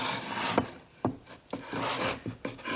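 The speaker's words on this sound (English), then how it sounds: "I'm going to continue just to use this like bevel the edges, take away any excess clay." A tool rasps along the edges of a handmade clay tile to bevel them and scrape off excess clay. Close scraping strokes come in a diagonal rhythm, about five or six rubs with brief pauses between them.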